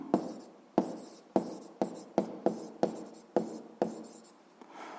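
A pen writes on paper in quick strokes, about ten sharp scratchy taps at an uneven pace, close and clear with no voices.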